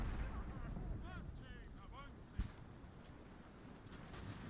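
A 4-pound field battery firing in the Ultimate Admiral: Age of Sail naval battle game, with low rumbling booms and one sharper distant report, under a voice giving orders.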